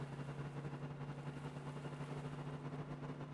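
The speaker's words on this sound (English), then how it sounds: "even though it sounds like the engine's about to die" Engine of the R3 T20 tank prototype in Stormworks running rough and sputtering, a low steady hum with uneven pulsing texture, moderately faint and continuous with no talk.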